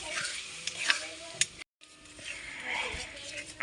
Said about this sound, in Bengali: এখন ভালো করে মিক্স করে রান্না করে নেব।